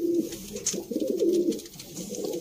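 Sialkoti pigeons, the 35 walay breed, coo in a low steady murmur that rolls on continuously, close and fairly loud, with soft bird chatter overhead and no talk.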